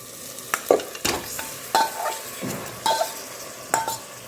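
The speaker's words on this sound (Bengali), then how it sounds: "মশলার সাথে আলুটাকে খুব ভালো করে কষিয়ে নেব" Marinated potato pieces in a pan with softened tomatoes and spices fry over medium heat, with a low sizzle under repeated scraping strokes of a spoon against the pan, about once or twice a second.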